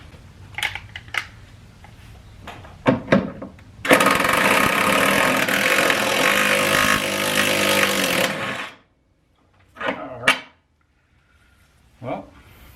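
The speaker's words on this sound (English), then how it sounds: "Maybe we'll use a smaller impact." An impact wrench takes out a rear shock bolt on a 2011-2017 Chevrolet Equinox or GMC Terrain, giving a loud rattling hammer burst of about four seconds after some clinks and knocks, followed by a few short metallic taps.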